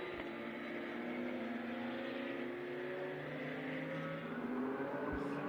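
Porsche race cars roll side by side behind a safety car at Barcelona in a Porsche Sprint Challenge race, a steady low engine drone with overlapping tones from several cars, moderately distant and continuous.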